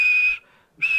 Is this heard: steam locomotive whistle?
yes